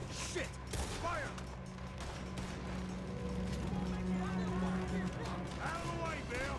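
Gunfire from Red Dead Redemption 2 crackles through a dense, noisy battle scene, repeated rapid shots mixed with shouting voices and background action, fairly distant and continuous.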